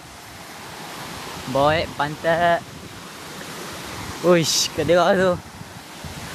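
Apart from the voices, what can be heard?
waterfall on Fraser Hill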